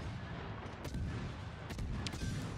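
High-explosive shells fired from a tank in World of Tanks at Prokhorovka, heard as a few booming cannon shots with sharp transients over a constant low battle rumble.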